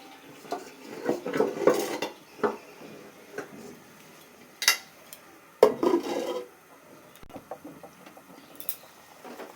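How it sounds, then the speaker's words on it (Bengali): Metal clatters and scrapes as a lid goes onto a pot of masoor lentils, a series of close, irregular clinks and knocks with quiet gaps between them. "এখন ডালটা সিদ্ধ হবে এই জন্য আমরা ঢেকে দিব"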